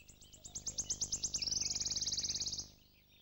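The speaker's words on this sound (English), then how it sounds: "Apart from the glorious trills, the singing males also produce a series of melancholy piping whistles." Wood warbler song in deciduous oak woodland: a run of accelerating sharp notes that speeds into a dense, shivering trill, clear and fairly close, ending abruptly after about two and a half seconds.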